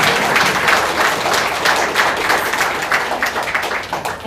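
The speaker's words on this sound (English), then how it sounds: "join me in giving a round of applause for" Steady applause from an audience at a Westlake Board of Education candidate forum, dense clapping that holds fairly even throughout, with no talk.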